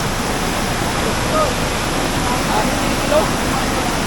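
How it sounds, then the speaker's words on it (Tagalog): Loud, steady rush of floodwater surging during Typhoon Carina, broadband and continuous for the whole stretch, with a voice speaking faintly beneath it. "Napakalakas ng tubig dito. Baha talaga."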